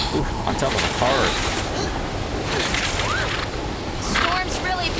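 Heavy storm wind in the video game The Last of Us Part II roars continuously with whooshing gusts and rumbling, loud and close, with speech-like sounds mixed in.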